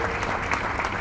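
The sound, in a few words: audience applauding to welcome a minister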